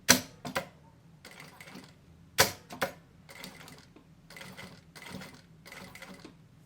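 Sewing machine stitching a zipper onto a handmade bag, close and moderately loud, with short bursts of rapid mechanical stitching broken by pauses and a few sharp clunks, with no one talking.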